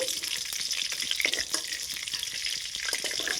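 Chitol fish muitha dumplings fry in hot oil with a dense, continuous crackling sizzle, close up, broken by occasional clinks of a utensil as pieces are lifted out.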